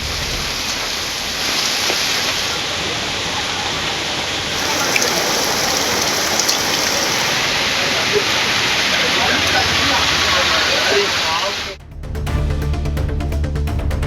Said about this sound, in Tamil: 1 மணி நேரத்திற்கு மேலாக கனமழை கொட்டித் தீர்த்தது